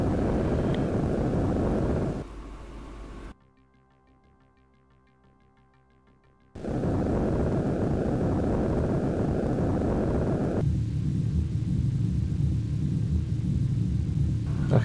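Deep, steady jet engine rumble from an F-15 fighter in a flight combat game, loud and continuous, cutting out into near silence midway before the drone returns.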